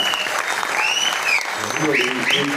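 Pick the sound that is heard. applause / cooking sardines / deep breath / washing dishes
applause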